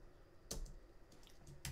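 A few quiet clicks from typing on a computer keyboard while coding in Unity, with one sharper keystroke near the start and a couple more near the end over a soft background hiss.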